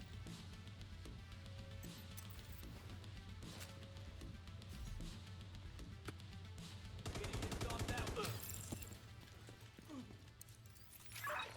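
Machine gunners firing in The Division 2, with faint scattered shots over game ambience and a louder rapid automatic burst near the middle before things settle again.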